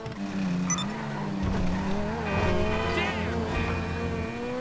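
Cheap Chinese-made car in GTA V Online, its engine revving and whining with tires squealing close up for a few seconds.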